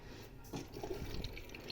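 A GMC washing machine draws in water, a steady close hiss and trickle of liquid filling the drum, with a few soft splashes and no voices.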